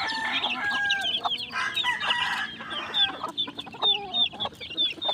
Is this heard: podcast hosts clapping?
no